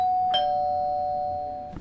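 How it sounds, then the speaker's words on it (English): A single electronic chime rings clearly and sustains, fading slowly over more than a second, with a faint second tone starting at the end. "The doorbell is kind of a half electronic house friend."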